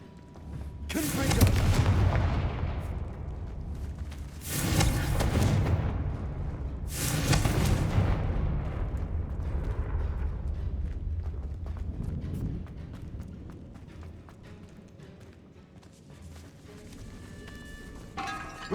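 Casting the Confringo spell in Hogwarts Legacy sets off three loud, booming blasts a few seconds apart, each with a long rumbling decay, followed by quieter ambient game sounds.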